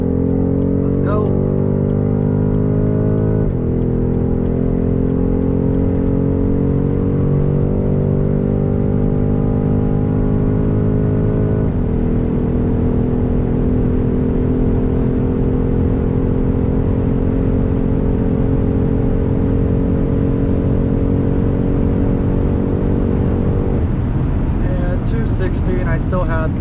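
A BMW X5 M50i with a 4.4-litre V8 biturbo accelerating hard on the autobahn, heard from inside the cabin: a loud, steady engine drone that climbs in pitch, drops at each gear change, then climbs again.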